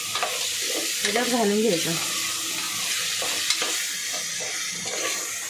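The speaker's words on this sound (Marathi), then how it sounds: "आणि आपण आता हे टमाटे घालायचे लगेच ताबडतोब, मग आपला मसाला पण चांगला फ्राय होतो।" Tomatoes and ginger-garlic paste masala frying in a pan, a bright steady sizzle with light stirring, while someone speaks briefly over it.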